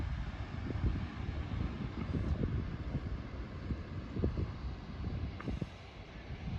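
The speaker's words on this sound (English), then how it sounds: "you might hear the ocean in the background roaring away" Ocean surf roars steadily beside sand dunes, a constant low broadband rumble with gusty wind noise over it, no voices.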